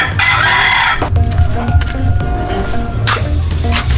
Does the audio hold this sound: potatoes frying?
no